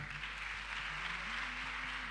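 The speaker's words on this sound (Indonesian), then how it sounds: "Saudara boleh kasih tepuk tangan untuk tim puji sembah." A church prayer-meeting congregation applauds the worship team with steady, even clapping from a crowd, moderately faint, with a low hum underneath.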